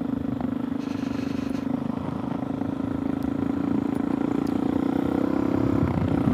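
A Suzuki DRZ 470 dirt bike under hard acceleration, its engine holding a loud, steady droning pull with continuous wind and road roar close to the rider.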